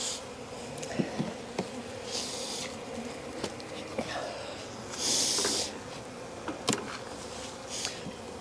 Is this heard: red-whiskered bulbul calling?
no